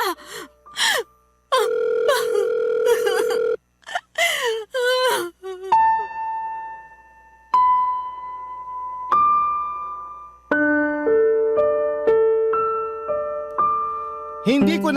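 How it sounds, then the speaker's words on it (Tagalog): A phone call left unanswered: after several seconds of a voice moaning and gasping, a plain electronic ringtone plays a series of sustained, stepped tones at a moderate, steady level. "Arlo, sagutin mo ang tawag ko"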